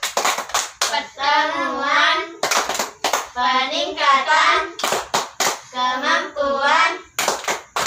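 Rhythmic group clapping chant (tepuk P2K2) at a family-capability training session, sharp hand-clap bursts in patterned sets between stretches of chanted voices, repeated three times close up.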